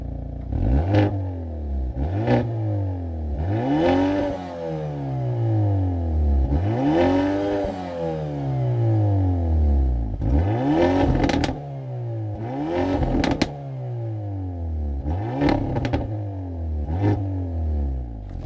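Hyundai Elantra N sports exhaust revving hard through large real tips, loud repeated rises and falls of pitch with crackles and pops between blips, close up and alone.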